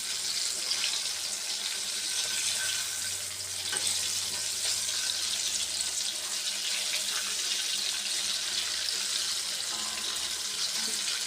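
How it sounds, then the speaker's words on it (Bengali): Chicken pieces fry in hot oil on medium heat, giving a steady, dense crackling sizzle that runs unbroken and fairly close throughout, with no voices over it. "এখন এটাকে মিডিয়ামে রেখে আস্তে আস্তে করে ভেজে নিতে হবে"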